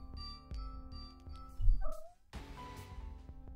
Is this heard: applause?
no